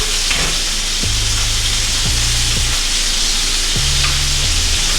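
Steak frying in a hot pan with thyme and butter, a loud, steady sizzle and hiss carrying on throughout, with a few low thumps and scrapes as the meat and herbs are moved.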